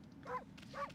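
Two short barks from a dog in the Okami video game, set off by the bark button, each a quick upward yelp sounding close and clear over a low steady background hum.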